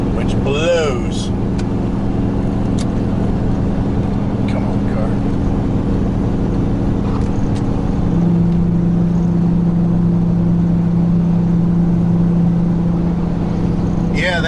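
A truck engine labours loud and constant while towing an RV up a long, steep hill, with a sustained droning hum and a tone that rises partway. Road noise sits underneath, and voices come through faintly.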